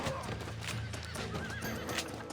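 A horse in Red Dead Redemption 2 whinnies and neighs with clip-clop hoofbeats, loud and close over a steady game background, with no talking.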